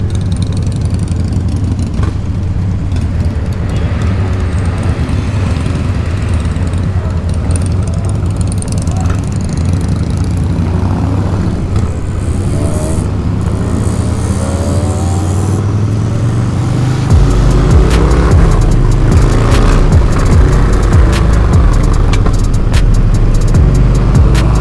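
A Harley-Davidson Dyna Clubstyle motorcycle is ridden through South Jakarta, its engine a loud, steady low throb under wind noise that grows heavier and deeper partway through.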